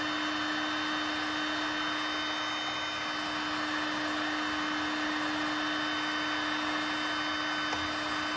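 A heat gun running steadily while blending scratches out of hard plastic, a constant close whir of blower noise with a fixed tonal hum, no pauses or talk.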